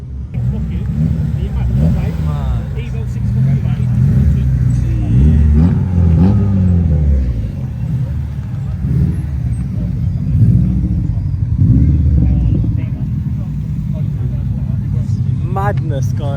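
Modified JDM cars rumble and rev in an enclosed underground car meet, a loud continuous low engine drone with rising revs, overlapping voices talking throughout.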